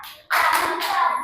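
Sharp hand claps from a kathak dance tihai sequence, a burst of close, bright claps starting after a brief quiet gap and continuing in a steady rhythmic pattern.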